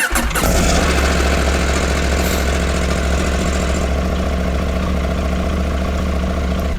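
A Husqvarna Norden 901 Expedition motorcycle engine cranks and catches, then settles into a loud, steady rumbling idle close by, with no talking.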